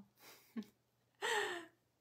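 Breathing during a guided meditation: a soft exhale, a brief catch, then one deep, audible inhalation close to the microphone in a quiet room.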